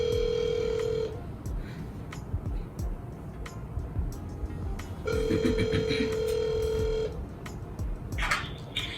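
A telephone rings during a phone call: a steady electronic ring tone sounds at the start, stops, then returns for about two seconds later, under constant background noise with faint ticking.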